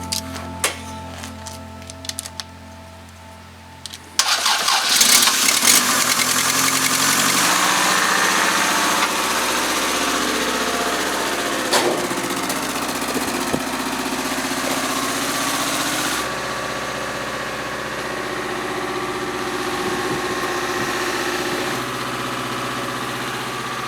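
A vehicle engine fires up after a jump start, turning over briefly before catching and settling into a loud, steady idle with a slight rough shake that runs on without a break.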